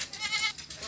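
A goat bleats on a goat farm in Dera Ghazi Khan, one close, loud, wavering cry that lasts nearly a second, with no talk over it.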